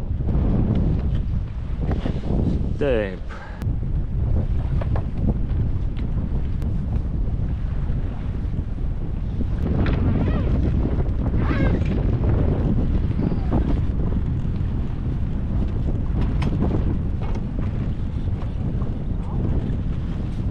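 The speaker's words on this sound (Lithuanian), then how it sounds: "Vėjas pučia biškučiuką." Strong wind buffeting the microphone outdoors on the Arctic tundra of Svalbard near the shore, a continuous loud roar with gusts and a brief spoken word early on.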